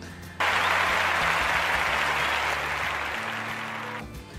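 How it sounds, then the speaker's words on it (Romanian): Audience applause at a poetry evening book launch, a dense steady burst of clapping that starts abruptly and holds loud for about four seconds before tapering, with a low background hum. "aplauze!"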